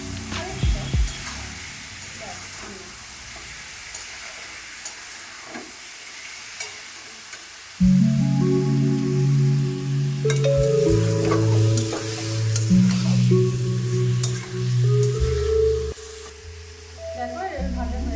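Chicken pieces tossed with turmeric sizzle and crackle steadily in a hot pan for a light pre-fry, with stirring scrapes, while a tonal hum runs underneath in the second half.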